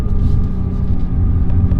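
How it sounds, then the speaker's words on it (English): A 2017 Nissan GT-R rolls through a snowy car park, its engine a low, steady rumble close by, with a faint, uneven texture over the drone and no voices. "Quick lap around the snowy car park."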